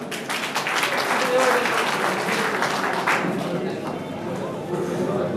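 Applause welcoming a village head at a community gathering, a crowd clapping with steady dense clatter throughout while voices carry over it.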